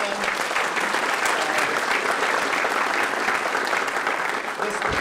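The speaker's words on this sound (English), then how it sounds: "Let's give them a round of applause" A large audience applauds steadily at a data science conference, a thick, even wash of clapping that lasts several seconds with little change, alone with no voices over it.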